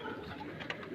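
Low-flyer pigeons kept at a home in Hyderabad give a soft, brief burst of cooing, faint and close with no talk over it.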